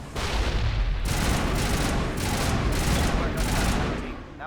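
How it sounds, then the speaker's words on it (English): Explosions and gunfire from a grenade fight in the video game Mass Effect 1: a dense, loud barrage of repeated blasts and shots in rapid bursts, continuing without pause to the end. "Grenade."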